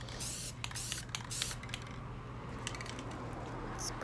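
Spray paint hisses from a can onto a board through an old, purchased circular stencil, in short close bursts of varying length with brief gaps between them.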